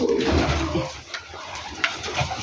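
Rajshahi Giribaz pigeons give a short, low, throaty coo up close, fading into a soft background with a few faint clicks and no clear talking.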